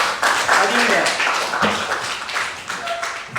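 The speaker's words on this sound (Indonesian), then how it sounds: "Tepuk tangan dulu untuk Adinda." Applause for Adinda in a classroom lesson, several seconds of dense, close clapping from a group with some voices mixed in.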